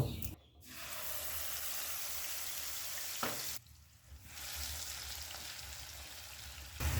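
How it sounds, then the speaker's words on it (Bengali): Spice paste hitting hot oil with black cumin seeds in a pan, a steady broadband sizzle running throughout with a brief dip midway, close and fairly loud with no talking. "এবার আমি যে মশলার পেস্টটা তৈরি করেছি সেটা দিয়ে দেব"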